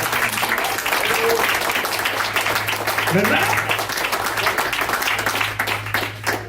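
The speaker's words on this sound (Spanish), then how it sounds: "Denle un aplauso al Señor." A church congregation gives sustained applause, a dense steady wash of clapping that fades near the end, while a preacher's voice speaks over it.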